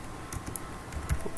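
Quick, soft keystrokes on a computer keyboard while router configuration commands are typed, a brief run of light clicks heard close and alone.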